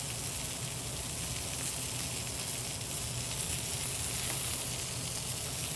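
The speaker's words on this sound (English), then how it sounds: "this searing, this color that we're going to achieve on the skin, it's called the Maillard reaction" Skin sears in a hot pan with a loud, dense, steady sizzle that carries on unbroken the whole time, close up and with no voices over it.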